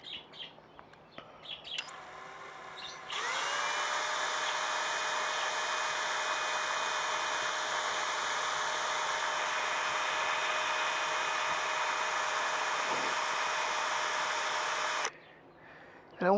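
A power drill drills a divot, running as a loud steady whine with stable harmonic tones for about twelve seconds, then cutting off abruptly.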